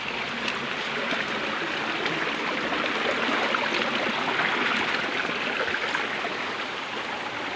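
Water from Bawan Falls rushes along a rocky stream in a steady, dense roar, constant and fairly close with no pauses.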